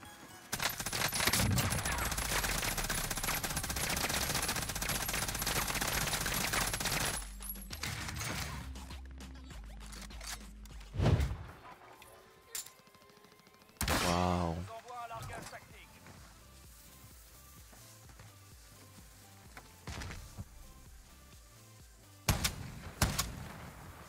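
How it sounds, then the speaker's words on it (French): Dense automatic gunfire from another player in a shooter game fills the first several seconds, then gives way to scattered shots, clanks and footstep-like sounds as someone talks in French over it. "Vous avez vu qu'il y a un mec qui est en train de tirer, là?"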